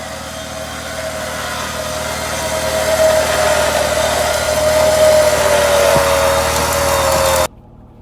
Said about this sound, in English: we're just going to let the winch pull us right up